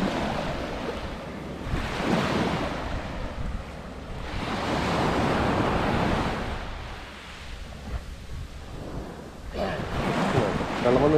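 Sea waves roll and break at Chettuva Beach in Thrissur at sunset, loud broad surf swelling and fading in long surges, mixed with wind buffeting the microphone.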